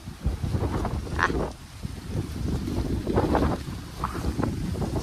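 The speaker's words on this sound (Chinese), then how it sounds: "今天这风刮的也太大了" Strong gusting wind buffets an outdoor campsite in light rain, roaring and rumbling heavily against the microphone in uneven surges with occasional higher rustling bursts, no voices.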